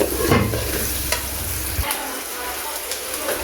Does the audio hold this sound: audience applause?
no